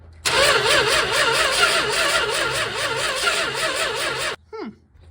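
Big block 1967 Dodge Coronet 500 V8 cranks and catches, roaring loudly at a rough, pulsing idle for about four seconds before shutting off abruptly, with a brief falling whine afterward.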